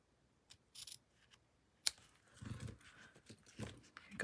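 Scissors snip the ends of flower stems, giving a sharp close click followed by soft rustling and handling noises, all quiet and close.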